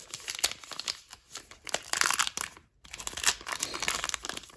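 Foil wrappers of 2022 Topps Heritage High Number hobby packs crinkle and tear open up close, a busy run of crackling rips with one short pause midway.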